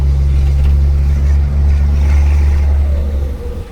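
A stock ten-nut Isuzu 360 pickup drives along with a loud, deep, steady engine drone and road rumble heard from close by, easing off slightly near the end.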